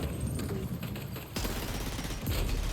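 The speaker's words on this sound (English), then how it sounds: "now I have a machine gun" Machine gun fire in the video game Death Stranding 2 comes in dense rapid bursts, loud and close, with a short break before another volley.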